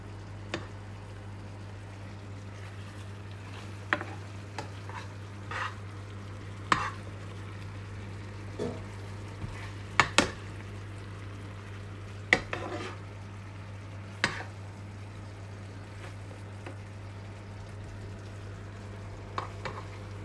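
Veal involtini fry in butter in a pan with a steady low sizzle, broken by scattered clicks and scrapes of a utensil against the pan as they are basted.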